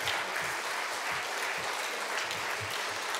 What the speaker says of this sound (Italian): col nostro applauso a Francesco Toscano,